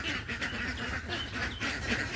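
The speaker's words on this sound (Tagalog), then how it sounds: "Yan maliliit ko na bibi" Small ducklings quacking and peeping in a steady, fairly faint chorus of overlapping short calls, heard alone with no speech.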